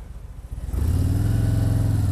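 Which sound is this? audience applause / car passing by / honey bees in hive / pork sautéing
car passing by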